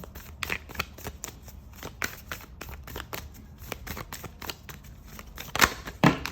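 Oracle cards are shuffled and laid out on a table, a run of quick papery riffles and soft slaps in irregular bursts, fairly close, with a couple of sharper flicks near the end.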